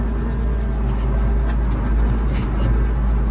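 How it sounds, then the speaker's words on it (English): A Case IH 2594 tractor engine runs in a loud, steady low drone close by, its tone shifting slightly as the gears change. "as soon as I pop it into second, this tractor's gonna lurch"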